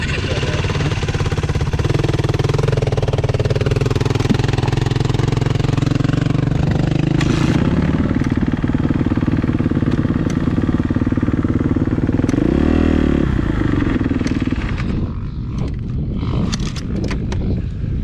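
An ATV quad engine runs outdoors at an off-highway vehicle park, a loud, close, steady rumble with shifts in pitch as the revs change, dropping away near the end.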